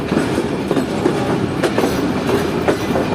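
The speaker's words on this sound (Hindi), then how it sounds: "ये प्लेटफॉर्म लाइन भी छोड़ रही है ट्रेन।" A Pak Business Express train pulls out along the platform line, switching from loop line to main line, with a steady rumble and rhythmic clickety-clack of wheels over rail joints, loud and close, no talk.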